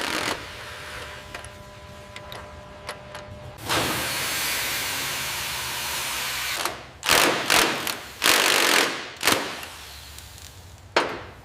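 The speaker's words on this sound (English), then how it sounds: "Hit that mount again with the impact wrench" Impact wrench working a corroded mount bolt in a garage, a long steady hiss-like run followed by several short loud bursts in quick succession.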